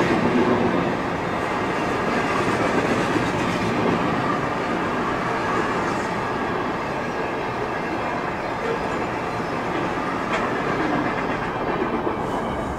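A CSX freight train led by a GP39-2 locomotive rumbles past nearby, a loud continuous roar of rail cars with rattling wheels and faint squeals, steady for the whole stretch with no talk.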